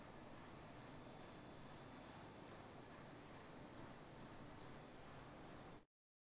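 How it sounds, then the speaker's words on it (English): Steady, dense rumble of trains running in the factory-building game Plan B Terraform, a continuous even wash of noise with no talk over it, cutting off abruptly near the end. "There's a couple trains down there."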